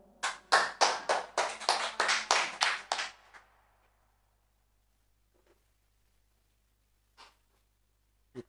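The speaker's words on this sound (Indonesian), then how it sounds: "Kita beri aplaus sekali lagi kepada peserta yang telah memberikan pencerahannya." Audience applause at a health-education speaking competition: about three seconds of brisk, fairly close clapping that stops abruptly, followed by near silence with a few faint stray noises.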